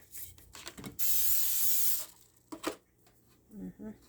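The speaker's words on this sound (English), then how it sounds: "so I'll spray the cooking oil on that too" A single burst of aerosol cooking oil spray hisses loudly for about a second, framed by light clatter and handling noises before and after.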